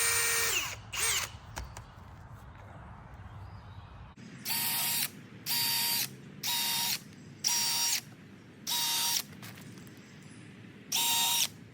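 A power drill boring staggered holes in a log for shiitake mushroom spawn dowels, starting with short bursts and then six separate whirring runs with pauses between them, close and clear.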